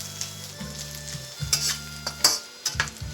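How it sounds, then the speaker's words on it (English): Goan sausages frying in a pan with onion and garlic, a steady sizzle broken by several sharp stirring scrapes and clinks of a utensil against the pan, close and clear with no talk. "Now let's fry the sausages for 2 to 3 minutes"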